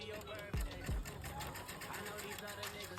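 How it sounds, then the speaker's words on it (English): A sewing machine runs steadily while stitching a bustier seam, giving a low, even mechanical whir with a couple of louder thumps near the start, heard faint and close. "So I'm just gonna sew 1/4 inch instead of a 1/2 inch"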